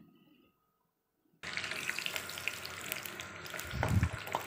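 After a brief quiet gap, a steady loud sizzle of cempedak fruit in batter frying in hot oil starts abruptly and continues, with faint clinks and stirring.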